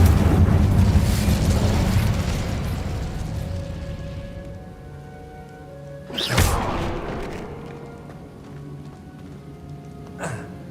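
The Incendio fire spell is cast in Hogwarts Legacy, a roaring fiery whoosh that fades over several seconds, followed by a sharp magical burst and a smaller flare near the end.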